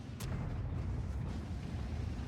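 A single heavy cannon-like boom from a large-caliber tank gun in a video game, near the start, followed by a low continuous rumble of engine noise.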